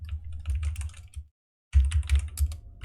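Rapid computer keyboard typing, close and fairly loud, in two dense bursts separated by a short silent pause, with a steady low hum underneath.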